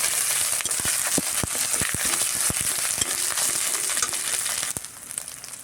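Ground dried chili paste hits hot oil for a brinjal and roopchand fish curry, a steady crackling sizzle broken by sharp pops and stirring scrapes that eases slightly toward the end.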